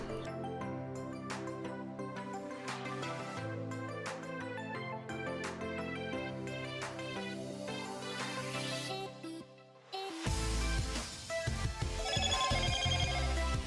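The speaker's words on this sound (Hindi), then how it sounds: "मोटरोला फोन्स में ये वाला चीज़ मुझे बहुत पसंद है मीन्स पावर ऑन करते टाइम भी ये वाला आवाज़ आ जाता है" Power-on startup sound of a Motorola Moto e7 Power phone: a clear melodic chime plays close and alone, then gives way to a brighter, noisier burst near the end.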